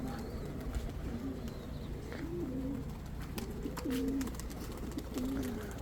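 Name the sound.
cooing of rare Sina pigeons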